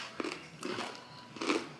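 Guava toasted crackers bitten and crunched up close: three short, crisp crunches spaced out across a quiet moment.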